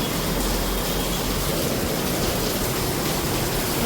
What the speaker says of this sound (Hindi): देखो गाइस, बारिश आ गई।